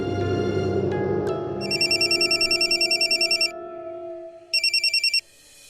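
A phone ringtone for an outgoing video call: repeated electronic trilling bursts in two rings with a pause between, sounding over a fading musical tone at the start, clear and close.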